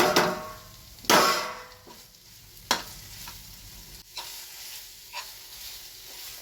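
A spoon stirs and scrapes vegetable roll filling in a sizzling pan, with irregular knocks against the metal over a steady frying hiss, close and fairly loud.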